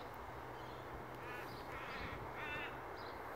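A crow caws several times at a distance, its harsh calls repeating in short bursts over steady outdoor background noise.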